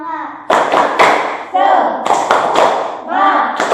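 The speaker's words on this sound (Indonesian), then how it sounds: "Coba tepuk semangatnya dulu." A school class chants the rhythmic 'tepuk semangat' cheer, young voices calling out in bursts punctuated by loud, sharp group claps in a set pattern.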